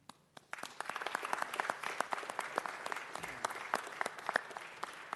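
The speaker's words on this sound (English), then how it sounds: "Let's give him another round of applause, everyone." An audience at a city council meeting applauds steadily for about five seconds, a dense patter of many hands at moderate distance, with little talk.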